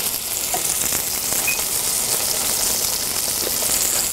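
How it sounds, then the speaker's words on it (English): Tuscan meatloaf browning in a pan, a dense, constant sizzle of frying meat, close and loud, holding steady without voices. "This is the only time where you really have to stay here with it to hold it up in the pan while it's browning."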